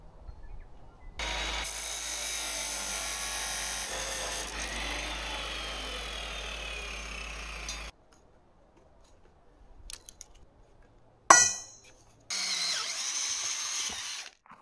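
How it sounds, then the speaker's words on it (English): Power drill boring weld puddle holes into steel on a boat trailer, a long steady whining run, then quiet, a sharp clank and a shorter burst of drilling. "I'll be drilling some weld puddle holes on the other sides."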